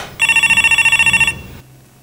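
A household telephone rings loudly in one rapid trilling burst of electronic bell tones lasting about a second, then cuts off, leaving a quiet low hum.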